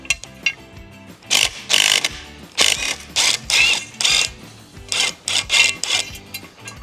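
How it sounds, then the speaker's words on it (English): Bolts backed out of a Küat IBEX mid-height bike rack with a power driver, heard as a series of short, close ratcheting and whirring bursts separated by brief pauses. "So real quickly, I'm going to take out these bolts"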